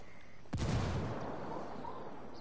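A grenade blast in Ghost Recon bursts out suddenly after a moment of quiet, loud and booming, then trails off into a long rumbling decay.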